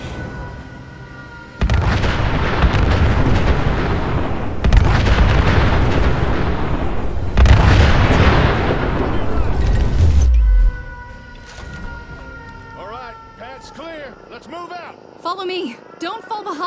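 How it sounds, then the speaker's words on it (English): Gunners firing artillery in Fallout 4, with three long, loud roaring bursts of explosions and gunfire, then quieter trailing sounds and whistling effects. "Looks like the gunners took the bait. Look, they're firing!"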